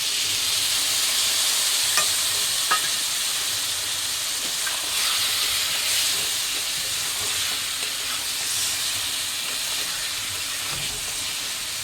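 Ground spices sizzle and hiss in a hot pan while being stirred and fried for a rohu fish curry with young jackfruit, a steady loud frying hiss with occasional scrape and clink of the spoon.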